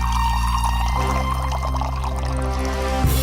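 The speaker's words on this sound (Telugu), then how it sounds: "ఒకవేళ నేనిప్పుడు ఈ మూడు సేర్ల పాత్రను మళ్ళీ నింపి ఈ ఐదు సేర్లు పాత్రలోకి పోశానంటే" Water pours steadily from a three-ser vessel into a five-ser vessel, a continuous close splashing stream over a low sustained tonal background.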